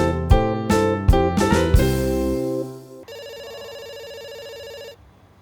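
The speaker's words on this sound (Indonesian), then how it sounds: "Ada suara telepon." A telephone rings loudly and close by, first in several sharp repeated bell-like bursts and then as a sustained electronic ringtone that holds for about two seconds before cutting off.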